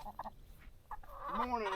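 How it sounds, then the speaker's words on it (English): Farm birds, likely geese or ducks, give a few short honking calls at a spring farm in the morning, followed by a longer, louder honk near the end, fairly quiet overall. "Good morning, birdies."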